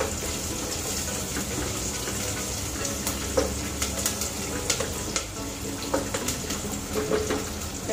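Onion, cinnamon, star anise and cardamom sauté in hot oil for a soybean pulao made in a cooker. A dense, loud, continuous sizzle carries occasional stirring scrapes and pops.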